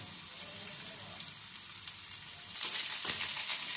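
Carrots frying with ginger-garlic paste in a pan, a soft continuous sizzle that grows louder and brighter partway through as the vegetables are stirred, with faint scraping.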